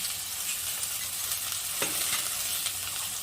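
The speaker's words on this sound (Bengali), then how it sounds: "এবার আমি এটাকে একটু ভালো করে কষিয়ে নিব মশলাটাকে" Ground cumin, chilli powder and salt sauté in a pan as masala for tengra fish, giving a loud, continuous close sizzle with faint stirring scrapes throughout.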